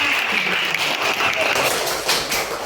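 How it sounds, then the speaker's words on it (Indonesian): A classroom of students applauds a group presentation, a steady wash of clapping lasting a few seconds, with faint voices in the background. "Ya, tepuk tangan buat kelompok 1 semuanya."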